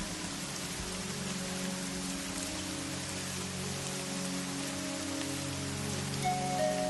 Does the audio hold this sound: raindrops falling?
yes